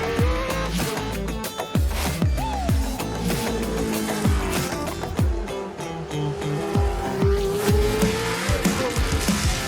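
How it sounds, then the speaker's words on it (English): A Williams FW08 Formula 1 car drives up the Goodwood hill, its engine screaming loudly and continuously through repeated rising revs and quick gear changes, close by, with no talking. "today here at Goodwood I will be driving the FW08 up the hill"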